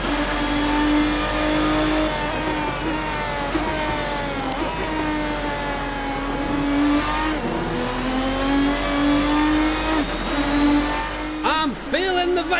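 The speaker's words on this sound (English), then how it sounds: "That glorious V12 taking away in your ears." Lister sports car with a V12 engine in the racing game Assetto Corsa, loud sustained engine note with harmonic whine rising and falling through gear changes, close and continuous, with a brief squeal near the end.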